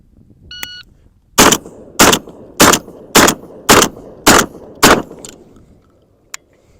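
Seven loud, sharp blasts from a Benelli M4 shotgun firing slug rounds at a steady, rapid pace about two-thirds of a second apart, close and dominant, with a brief beep before the string and a faint click after.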